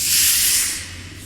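Steam hisses loudly from an engine as a tabletop game sound effect, a broad continuous rush that swells at the start and then eases off slightly, alone with no voices.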